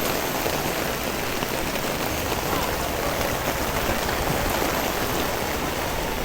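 Heavy rain pours steadily in Mirpur, Dhaka, a dense, even hiss with no pauses and no voices.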